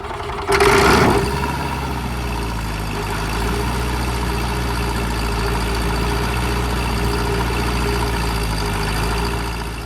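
A Van's RV-12iS light aircraft engine cranks and catches with a brief louder burst, then settles into a steady, close, even idle that drones on for the rest of the clip with no talk.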